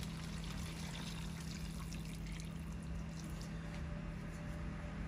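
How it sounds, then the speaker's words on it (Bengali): Water pours steadily into a pot of beef curry being cooked in a home kitchen, a constant splashing trickle with a low hum underneath and no talk. "জল দিয়ে দিলাম তো।"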